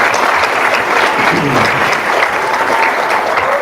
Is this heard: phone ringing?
no